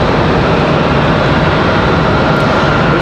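A Delta Connection CRJ 900 regional jet at Raleigh-Durham International Airport makes a loud, steady, broadband jet roar that holds unbroken for the whole span, close and dominant with no other sounds on top.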